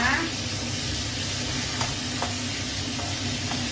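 Pork liver stir-fries in a wok over high heat in a Thai home kitchen, a continuous close sizzle with a few sharp scrapes or taps of the spatula breaking through.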